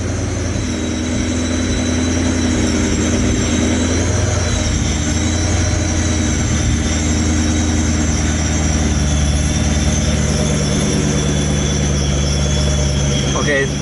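A supercharged Ford Mustang engine idles at a raised speed in a steady, continuous close drone that never changes in level.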